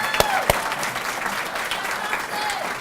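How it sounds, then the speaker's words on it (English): Crowd applause for a high school signing day athlete committing to college baseball, steady clapping across the room with a couple of sharp louder claps near the start and faint voices underneath. "You guys can applaud for him."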